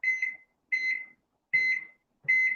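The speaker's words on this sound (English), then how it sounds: "I'm going to put my timer on." A kitchen timer beeps four times in an even rhythm, each beep a short, bright electronic chirp with clean silence between, close and alone, no voices.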